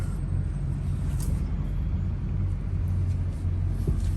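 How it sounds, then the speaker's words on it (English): A heavy garbage truck pulls up near a fuel island, its deep engine rumble idling close and steady with a faint hiss of air brakes. "Thank you, garbage truck. Don't park in front of me, man."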